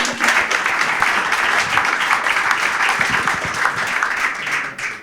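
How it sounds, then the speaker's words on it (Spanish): A live audience at a presentation bursts into dense, steady applause that stays loud and close for about five seconds, then begins to taper off right at the end. "Fuertes palmas, por favor, para Eduardo"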